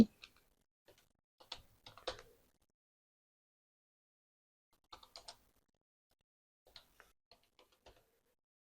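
Sparse bursts of computer keyboard typing as a folder name is entered in Bangla, quiet keystrokes in three short clusters separated by silence, with no talk.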